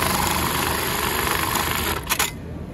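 Consew CM-1900SS sewing machine at a textiles expo stitching a design held in a clamp, a loud steady mechanical whir with a rapid stitching rattle that falters near the end and gives way to a few quick clicks.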